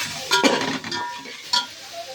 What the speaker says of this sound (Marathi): त्याच्यामध्ये चमचाभर कांदा लसूण मसाला चटणी टाकूया. तर हा मसाला टाकला चमचाभर ते हलवूया